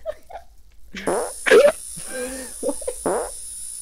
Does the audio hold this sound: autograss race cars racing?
no